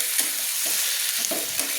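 Boiled taro (ghati kochu) pieces sautéing in hot oil with a steady bright sizzle, broken by several soft scraping stirs of a spatula; no voices.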